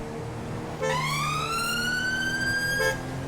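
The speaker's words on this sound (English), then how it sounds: "Use the siren just to clear a little bit of traffic." A British police car siren in GTA 5 with a UK police mod cuts in abruptly and rises steadily in pitch, loud and close, then drops away just as suddenly, with no talk over it.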